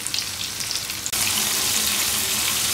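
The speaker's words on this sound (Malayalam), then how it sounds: "ഒരു 2 മിനിറ്റ്സ് ഒക്കെ മതി പെട്ടെന്ന് വറുത്തെടുക്കാം ഹൈ ഫ്ലെയിമിലിട്ട്" Chicken pieces frying on high flame, a loud sizzle that surges abruptly about a second in and then holds as a dense, close crackling hiss.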